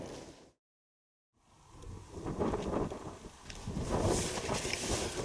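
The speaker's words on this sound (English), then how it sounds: "There's moments where it gets really windy, really flappy" Gusting wind buffets and flaps tent fabric close by, rumbling and rustling as it builds after a brief silence, inside a tent while wild camping in the UK.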